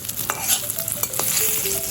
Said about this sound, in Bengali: দেখুন আমি কত কম তেলে বেগুন ভাজছি।